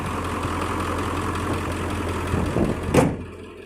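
A car engine idling after a cold start, a steady, close mid-to-low rumble that runs on, followed near the end by a short thud like a door before the sound drops away.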